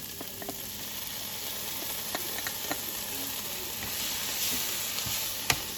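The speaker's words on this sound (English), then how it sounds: "while the onions are sauteing with the garlic" Onions and garlic sautéing in a pan at a backyard cooking session: a soft, constant sizzle with scattered small crackles and a sharp clack near the end, fairly faint and without speech.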